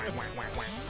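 Ducks in the video game Duck Game give a quick run of nasal quacks, three or four in a row, loud and up close over steady game noise.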